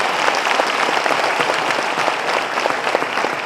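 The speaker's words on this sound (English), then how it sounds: "Please keep the applause going." Sustained applause from an audience at an event honouring a military chief, steady dense clapping at moderate loudness throughout with no talk over it.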